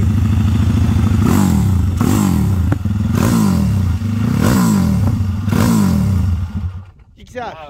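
An OHC 70mm motorcycle engine runs loud and close, revving hard in repeated bursts about once a second with rattly clatter, then cutting out near the end.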